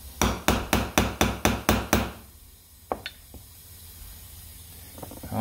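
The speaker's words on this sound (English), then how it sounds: "We're going to try tapping it together using this punch and a small hammer." Eight quick, evenly spaced metallic taps of a small hammer on a punch, working on the starter of a 1939 Graham Sharknose car, ring out close up, followed by a few scattered lighter clicks and quiet handling.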